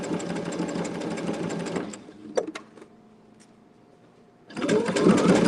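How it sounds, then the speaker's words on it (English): A Baby Lock sewing machine stitches a fabric applique, its rapid steady whirring loud and close, then pausing with a few clicks before running again. "I actually have 2 sewing machines, and they're both Baby Locks."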